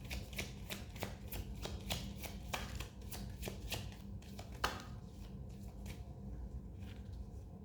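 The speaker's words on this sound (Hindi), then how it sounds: "जस्ट एक और क्विक शफल." Tarot cards being shuffled by hand up close, a quiet series of rapid riffling flutters and soft slaps in an irregular rhythm, with no talking.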